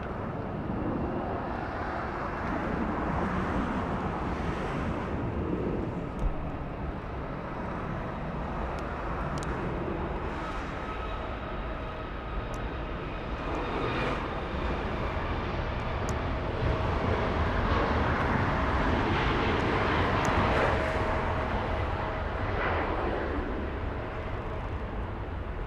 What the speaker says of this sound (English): The departure Southwest getting a move on, flying to Kona in Hawaii